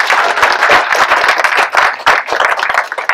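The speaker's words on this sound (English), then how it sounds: "Can we just give them a round of applause?" A crowd applauds library staff, with dense, loud, close clapping from many hands that keeps going throughout, its strength rising and dipping slightly.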